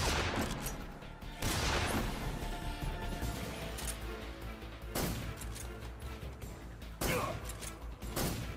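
Gunfire in Metal Gear Solid 3 crackles in several loud bursts over a busy, noisy game background, with sharp shots recurring every couple of seconds.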